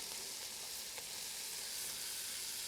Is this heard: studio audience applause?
no